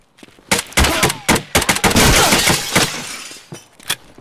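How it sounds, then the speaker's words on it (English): Rapid gunfire from the video game Escape from Tarkov, shots fired through windows, with loud cracking bursts and sharp single reports in close succession, some with a shattering quality, and no voices. "he's shooting through the windows"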